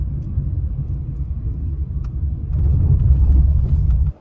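Low engine rumble from a car rolling to a halt at the bottom of a ghat descent, steady and close, swelling slightly in the last couple of seconds before cutting off abruptly; no talk.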